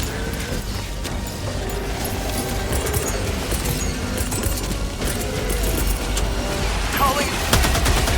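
Dense, continuous battlefield roar from an orbital barrage in Helldivers 2: rumbling explosions and rapid gunfire pile into a steady wall of noise, with a voice faintly underneath.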